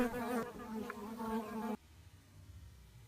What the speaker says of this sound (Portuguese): Esta é uma vespa das areias de outra espécie